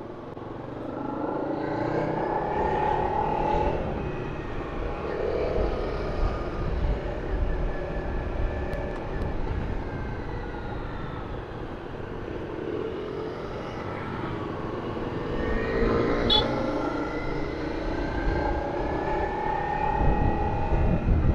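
Heavy road traffic passing around a motorcycle, a continuous low rumble of engines and wind with vehicles swelling closer and fading away in broad waves, no voices.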